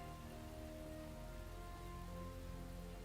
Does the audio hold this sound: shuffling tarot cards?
no